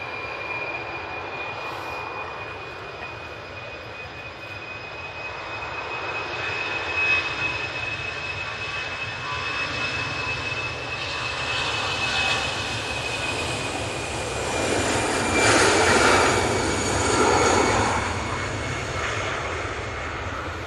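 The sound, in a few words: easyJet airliner on final approach landing at Manchester Airport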